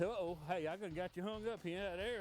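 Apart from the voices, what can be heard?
No distinct noise like a dog, phone or traffic.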